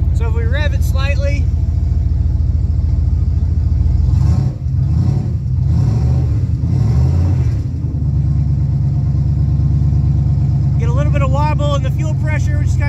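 Car engine on a MegaSquirt3-managed setup with a DIY returnless fuel pump system, cold and warming up, rises in a slight rev and settles back to a steady low idle rumble, with talk over it.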